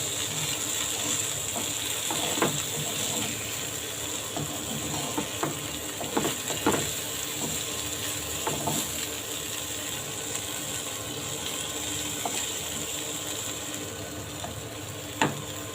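Red chillies, tomatoes and a chopped green chilli cook in a pan over a steady hiss, with scattered scraping clicks from stirring throughout.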